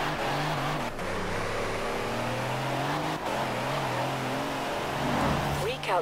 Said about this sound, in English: It's a heavy truck, it's not going to be that fast, but we'll see.